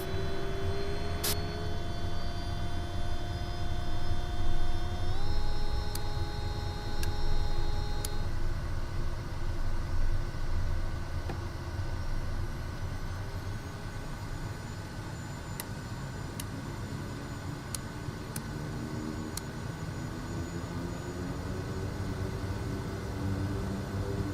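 A small aircraft taxiing and taking off in Microsoft Flight Simulator 2024 in Papua New Guinea, a steady engine drone with tonal whine that steps up in pitch as power increases, occasional faint clicks, moderately loud and continuous.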